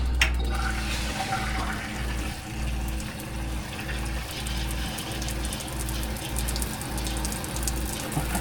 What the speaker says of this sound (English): Shower head might be a little excessive for our water flow.